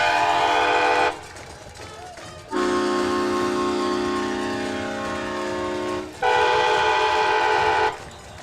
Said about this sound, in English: who's got that train horn down there?